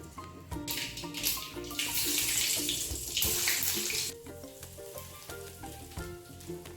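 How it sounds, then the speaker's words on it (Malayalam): Mustard seeds hiss and sizzle in hot oil for a pumpkin curry, a loud crackling fry that peaks in the first few seconds and then settles. "എന്നിട്ട് ഞാൻ അതിലോട്ട് കടുക് താളിച്ചിടാൻ പോവാണേ"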